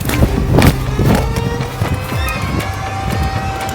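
Horses move nearby, with irregular hoof thuds and rustling over a steady outdoor background and a faint whinny-like tone.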